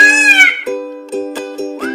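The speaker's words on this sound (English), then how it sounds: "Peacock." A peacock gives one loud, wailing, nasal call and then several shorter honking notes, heard up close and alone with no talking.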